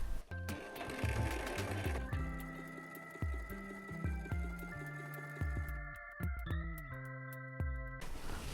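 A sewing machine running a narrow stitch on thin fabric, its needle thumping in quick, regular mechanical bursts with brief pauses, close and clear.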